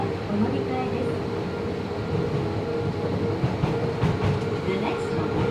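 A Tobu 70000 series train runs between Nakameguro and Kita-Senju, a steady loud rumble of wheels and motors with faint rail clicks inside the carriage.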